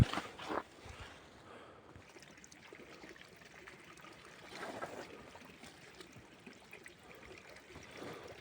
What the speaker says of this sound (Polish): Tutaj woda płynie cały czas.